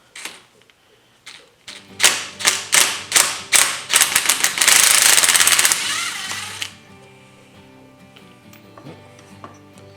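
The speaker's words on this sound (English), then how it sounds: "So we got a 19mm socket. We'll take these off." A 19mm socket on a ratchet or impact tool rattles in rapid bursts while it loosens the fork caps on a Kawasaki KLR250, louder and more continuous midway, then fades to a quieter mechanical hum.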